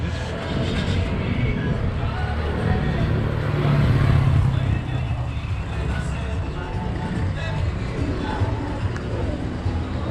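Busy street traffic by a Guatemalan lakeside town where chicken buses gather, a steady low rumble of engines and passing vehicles with a swell of louder motor noise midway, while someone talks nearby.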